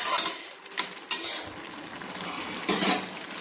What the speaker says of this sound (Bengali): আমি ভালো করে নেড়ে নিলাম